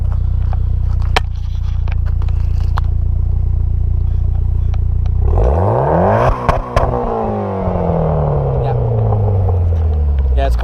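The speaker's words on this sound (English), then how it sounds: "Yeah, give it a rev." A Mitsubishi Evolution X MR with a COBB Stage 3 tune and quad-tip exhaust idles with a deep rumble, then gets one sharp rev that climbs and falls away, loud and close.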